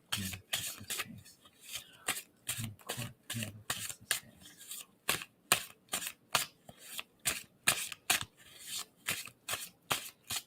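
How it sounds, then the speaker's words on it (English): A deck of tarot cards is shuffled by hand in repeated quick riffles, each a crisp flurry of flicking card edges followed by a short pause, close and clear in a quiet room. "tell me when I should stop shuffling on that"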